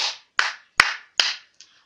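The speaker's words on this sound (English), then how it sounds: "let's clap our hands together" Five sharp hand claps at an even, brisk pace, close and loud, each with a short ringing tail in a quiet room, the last one softer.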